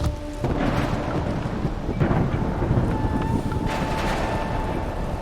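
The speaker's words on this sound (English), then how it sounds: "it's thundering and lightning" Thunder from an overnight storm rumbles steadily through wind and rain on the Mississippi turkey hunting grounds, a continuous low roar with a few swelling rolls, no talking.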